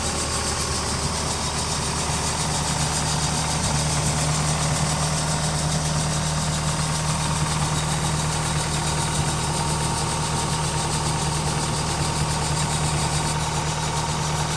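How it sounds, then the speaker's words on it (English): A 1986 Ford Sierra RS Cosworth engine idles steadily up close, a constant rattly, slightly tractor-like hum with no talking. "They do sound a bit rattling tractor-like, shall we say."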